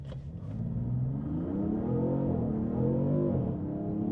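A 2026 Dodge Sixpack launches hard from a standstill, its engine roaring and climbing through the revs with a brief shift dip, loud and close throughout.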